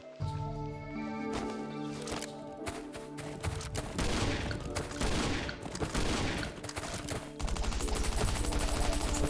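Gunfire in the survival video game Last Island of Survival rattles out in dense bursts and volleys, layered over game ambience at moderate loudness, with the heaviest firing toward the end.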